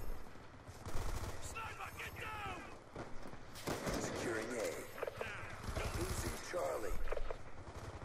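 Rapid gunfire and explosions in a Call of Duty match, dense overlapping bursts of automatic shots and impacts filling the clip, with a player's voice over the battle.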